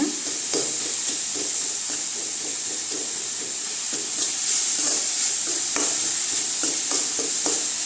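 Tomatoes being sautéed and stirred in a pan for tomato rice, with a steady sizzle and frequent spoon scrapes and taps throughout, close and continuous, no talking.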